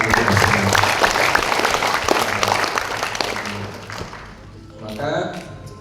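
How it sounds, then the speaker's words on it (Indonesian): A crowd at an Indonesian religious talk breaks into loud, sustained applause that slowly thins and fades toward the end, with a voice briefly heard as it dies down. "Boleh kalau ibu bapak tepuk tangan."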